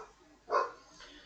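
A dog barks once at home, a short, fairly faint yap, followed by a softer trailing yelp.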